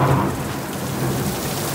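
Thunder rumbles through a hailstorm over steady heavy rain drumming on surfaces, a continuous loud wash of storm noise with no voices.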